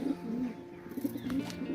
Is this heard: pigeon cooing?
yes